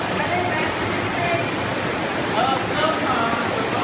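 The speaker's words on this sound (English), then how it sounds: "There's another river that comes right out from under this ledge." An underground river pours out from beneath a cave ledge, a loud steady rushing of water filling the space without pause.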